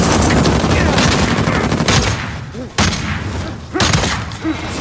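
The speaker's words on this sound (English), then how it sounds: "go back to shooting his head" Rapid gunfire from the video game Uncharted 4, dense loud bursts of automatic shots with short gaps and a few single reports, close and sustained.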